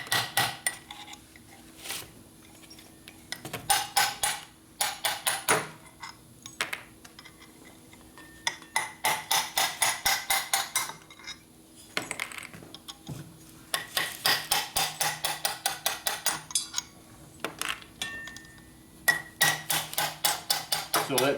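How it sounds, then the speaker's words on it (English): Rapid bursts of metallic steel-hammer strikes on a steel shaft during a 1980 Harley-Davidson Shovelhead engine top-end rebuild, ringing hits in quick runs separated by short pauses, fairly close and loud. "So you put it into the shaft and you beat it with a steel hammer."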